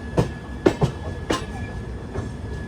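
Patna Express train rolling on the rails between Chennai and Nellore, heard from inside the carriage as a low rumble with several sharp clickety-clack wheel knocks near the start and a faint steady whine throughout.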